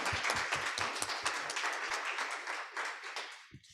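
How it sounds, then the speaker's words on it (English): An audience applauds at a conference closing session, moderately loud, even clapping with a few distinct claps at the start, fading out at the end as a voice begins. "And we can clap. Let's clap."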